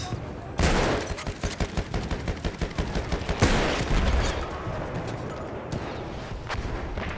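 Sniper rifle and other gunfire in the Battlefield 1 match on Suez, a sharp crack followed by rapid crackling shots and a second loud report, fading into distant battle noise.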